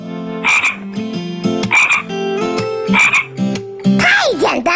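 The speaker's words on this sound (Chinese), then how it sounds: "是青蛙。" A frog croaking loudly and close by, in four repeated bursts of rasping, musical croaks evenly spaced through the clip, with no talking.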